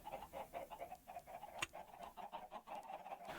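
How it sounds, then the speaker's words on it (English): Chickens cluck in a Minecraft chicken farm, a steady run of short, repeated game-style clucks close by and moderately loud, with one brief sharper sound partway through and no talk. "This is our chicken farm, or basically it makes eggs."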